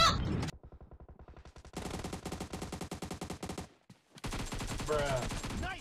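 AKM assault rifle bursts in a shooter video game, with a sharp opening shot followed by rapid automatic strings of crackling reports, a brief gap, then more sustained fire, loud and close.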